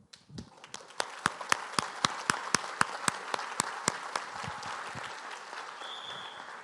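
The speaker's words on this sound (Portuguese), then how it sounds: "deixa eu aplaudir vocês" An audience at a political conference in Brazil breaks into applause, with one near, sharp clapper beating a steady, evenly spaced rhythm over a broad wash of crowd clapping that fades slightly toward the end.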